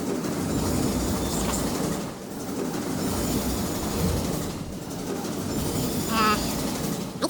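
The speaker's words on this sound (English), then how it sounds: "Other side of that train." In the Murdered: Soul Suspect video game, a train passes with a continuous rolling rumble, rhythmic clatter and a brief wheel squeal near the end, fairly loud and steady throughout.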